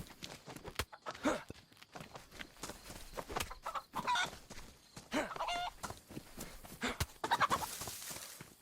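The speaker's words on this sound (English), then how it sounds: "Okay, so we just killed a chicken." A chicken clucks in the survival game DayZ, with scattered short clucks and squawks that come close and fairly loud over soft footsteps and thuds.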